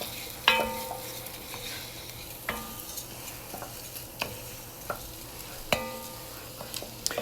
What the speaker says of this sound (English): we are going to toast the rice and coat it in all that butter just for a few moments until it starts to become a little translucent